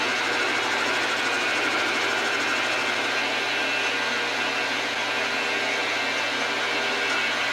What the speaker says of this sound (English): Just playing with the lathe.